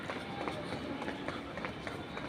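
A metro train in a very deep underground station rumbles with a steady rolling roar, with faint rhythmic clacks and echoing footsteps mixed in.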